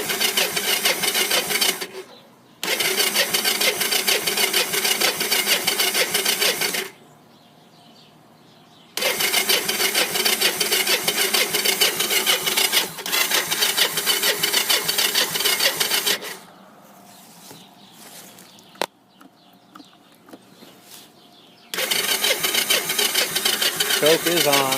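Three-wheeler engine cranked repeatedly on a cold day with choke on after two months unused, three long mechanical cranking bursts separated by near-silent pauses.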